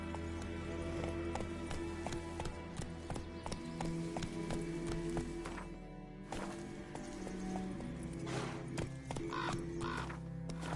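Roach, a horse in The Witcher 3, gallops with a steady, rapid clip-clop of hooves. A sustained musical and ambient bed runs underneath the hoofbeats.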